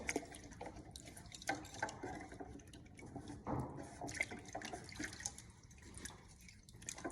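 Tap water splashing and trickling while a 5-gallon bucket is rinsed, a faint, uneven run of drips and gurgles nearby with no talking.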